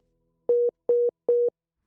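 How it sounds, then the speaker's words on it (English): Three identical short beeps in an even rhythm, the tone of a phone call disconnecting, clear and alone against silence. "The phone call keeps disconnecting"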